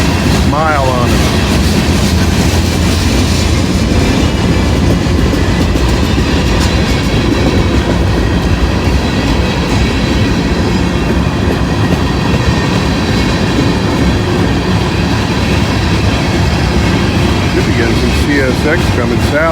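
A CSX freight train rolls past on a rainy day, a loud, continuous rumble with rhythmic wheel clatter running the whole time, close to the track.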